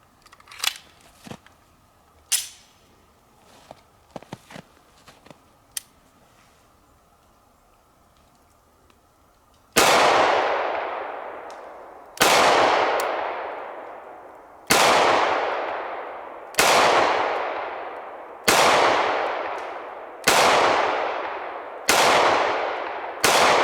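A homemade Smith & Wesson 4566 pistol fires about eight loud, sharp shots at steady intervals, each with a ringing decay, after a stretch of quiet clicks and handling noises.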